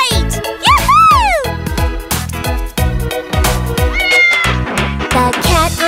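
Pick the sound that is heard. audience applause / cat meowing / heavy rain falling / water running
cat meowing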